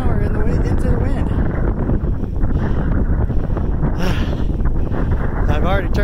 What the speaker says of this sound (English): I don't even know if you can hear me over this wind.